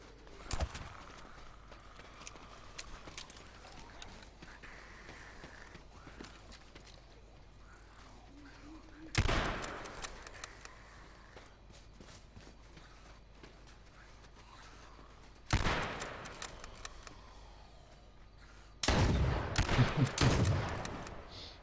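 Gunfire erupts in a survival video game: three loud, sudden bursts of shots break through a low, quiet game background, the last volley longer and more sustained than the first two.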